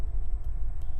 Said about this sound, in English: Whoa, earthquake?